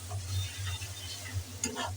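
Spices and yogurt frying in a pan for biryani, stirred with a soft scraping and a low steady sizzle, quiet and close with no voices.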